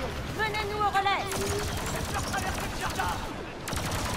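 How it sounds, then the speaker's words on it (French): Gunfire in a Star Wars video game, a burst of rapid shots with electronic whines and sweeping tones over a busy, dense mix, with people talking throughout. "ça y est, c'est une fusillade là"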